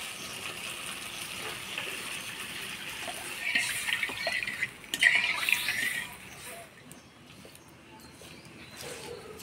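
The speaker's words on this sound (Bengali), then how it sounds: "এবার জল দিয়ে দিব" Water pours into a cooking pot of chicken, a soft rushing gush that swells in the middle and fades again, with faint background activity.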